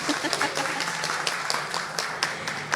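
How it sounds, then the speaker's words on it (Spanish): An audience at a Chela Científica science talk in Manta claps for a speaker, producing a steady patter of many hands with a few sharper individual claps standing out. "Un aplauso para Angélica Alciver, por favor"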